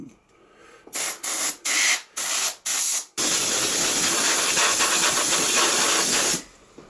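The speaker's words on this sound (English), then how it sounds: "use this spray duster, just to blow it all out" A spray duster hisses in five short blasts, then one long continuous jet of compressed air blowing dust out of an HP Z400 PC, loud and close, before cutting off.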